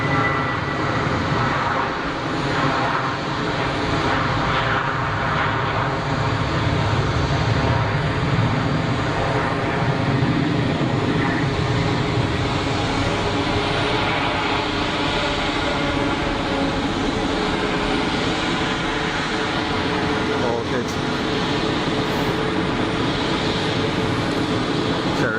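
A Gulfstream 4 SP business jet taxis at Geneva Airport, its engines producing a steady, continuous roar that stays constant in level throughout, with faint talk beneath it.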